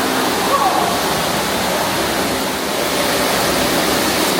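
Water flows steadily in the teamLab water area in Tokyo, a broad continuous rushing wash that fills the space close by, with no pauses.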